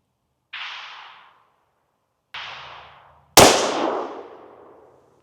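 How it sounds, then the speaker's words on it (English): A .500 JRH revolver firing a 350-grain XTP bullet at an outdoor target: two soft hissing bursts come first, then a single sharp, very loud report with a long rolling decay. "One more shot here."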